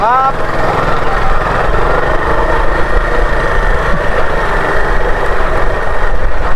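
A motorcycle engine runs steadily at idle on a rough, muddy bypass road, loud and close with a constant droning hum and no break across the whole stretch.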